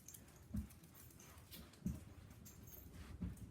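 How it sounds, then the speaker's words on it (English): A dog's low muffled woofs sound three times at a steady spacing of about one per 1.3 seconds. They are soft and somewhat distant over faint room noise, with no talk. "Sorry about my dog."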